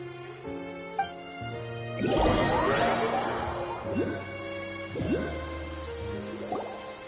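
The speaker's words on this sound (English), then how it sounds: "It's been raining non-stop for a few days now" Rain falling in the video game Genshin Impact, dripping and splashing with a louder crashing burst early on, set against sustained musical tones.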